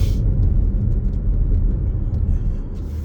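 Inside a car accelerating through a turn at an intersection, a steady loud low engine and road rumble fills the cabin without pause.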